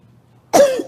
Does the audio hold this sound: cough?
yes